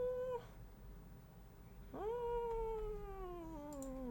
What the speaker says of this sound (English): That was like an angry cat song.